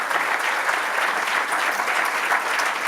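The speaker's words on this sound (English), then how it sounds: "a warm round of applause for the panel here" A steady round of applause from a conference audience for a panel discussion, moderately loud and continuous throughout, with no voices above it.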